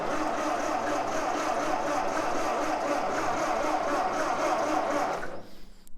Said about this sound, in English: Okay, so we're still cranking.